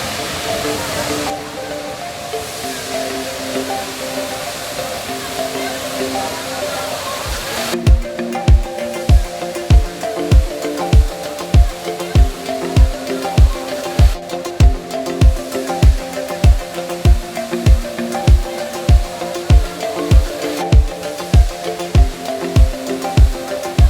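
Lapas waterfall in Barot Valley, Himachal, rushes as a loud, steady roar throughout. Partway in, a regular rhythmic thumping begins on top of the water noise and continues to the end.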